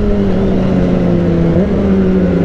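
Kawasaki ZX25R motorcycles fitted with aftermarket exhausts drone steadily as a group, a loud, close engine hum whose pitch dips slightly midway, with no talk over it.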